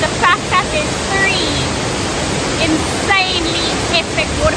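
Fiji Waterfall in Bali roars as a loud, constant rush of falling water close by, with a person talking over it.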